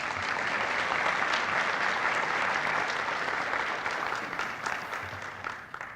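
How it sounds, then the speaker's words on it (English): An audience at a tech conference breakfast gives a big round of applause for vendor partners. The dense, sustained clapping fills the room, then thins and tapers off toward the end. "let's have a big round of applause for all of our vendor partners"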